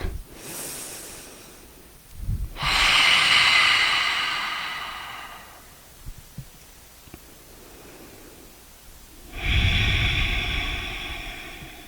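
Slow, deep breaths during a yoga session, each a long airy rush of air swelling and fading, with a quiet pause between them. Two or three full breaths sound close to the microphone.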